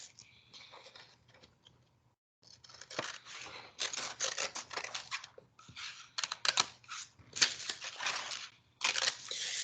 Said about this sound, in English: on 2 sheets of paper, I'm going to put those together and then cut out this shape for my figure shirt